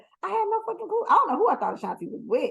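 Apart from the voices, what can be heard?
dog named Teddy barking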